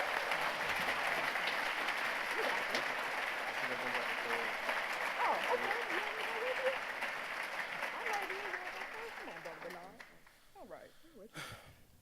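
An audience claps steadily after a speech at a community breakfast, a dense, even round of applause that holds for several seconds, then thins and fades out as a few voices emerge near the end.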